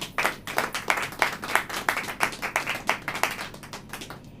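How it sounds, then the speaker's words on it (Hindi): Congregation clapping together during a church service, steady rhythmic hand claps repeating for several seconds with no talking. "आइए हम ताली बजाएं।"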